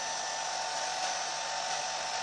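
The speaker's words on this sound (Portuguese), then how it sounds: "Eu vou reforçando com o secador de cabelo." A hair dryer runs steadily at close range, drying craquelure crackle-finish glue on a bottle, a constant loud whooshing blow with no break and no voices.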